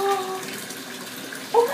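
Water runs steadily from a tap into a bathtub, a soft continuous splashing rush with a brief brighter burst near the end, heard indoors with no talking.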